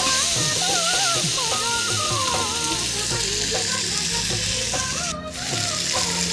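Chicken frying in a pan and being stirred, a loud, continuous sizzle with repeated scraping and clanking of the spatula close by, no talk.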